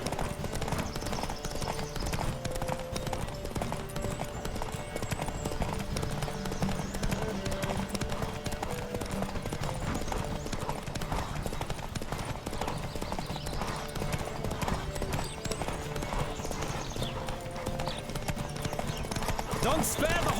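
Steady, rapid hoofbeats of a galloping horse in The Witcher 3: Wild Hunt, during a race, drum on continuously beneath music and occasional talking.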